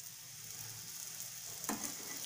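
Besan chilla batter sizzles steadily in oil in a pan, a constant bright hiss throughout with a brief louder crackle near the end, close and alone without talk.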